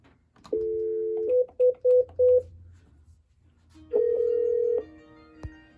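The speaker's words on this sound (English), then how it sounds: "Let's go ahead and do a quick outgoing call." A white Cisco CP-8865 IP phone on speaker placing an outgoing call: a dial tone, then several short distinct keypad tones in quick succession, followed by another sustained tone, clear and close with no talk.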